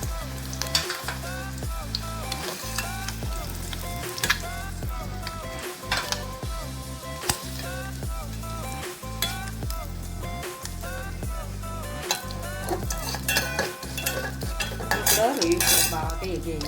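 Prawns and onions fry in a pan, a dense, continuous sizzle with rapid, rhythmic clinks and scrapes of a spatula against the metal all the way through, growing slightly louder near the end.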